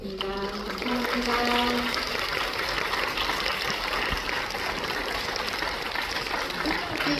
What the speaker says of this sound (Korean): 퇴장하시는 동안 박수로 보내드리겠습니다.